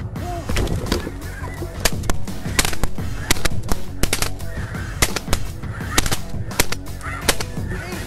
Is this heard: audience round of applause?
no